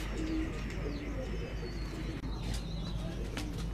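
Pigeons cooing on a rooftop loft, soft repeated coos over steady low hum and ambient noise, with faint chirps.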